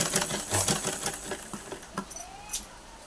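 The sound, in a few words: sewing machine stitching piping onto a blouse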